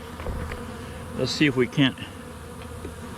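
Bees buzz around a tree, a low steady drone with a few louder passes swelling up close, while someone speaks briefly over it.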